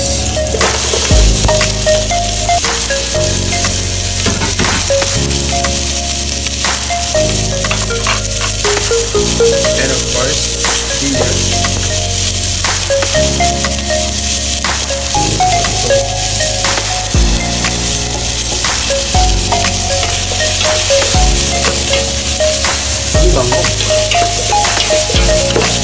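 Onions and garlic sauté in a pan with a constant close sizzle, broken by occasional utensil scrapes and clinks. Steady background music runs throughout.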